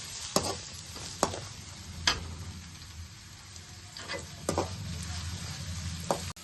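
Onions and curry leaves fry in a pan with a soft continuous sizzle, punctuated by several sharp clicks and scrapes of a spoon stirring against the pan, close and quiet with no talking.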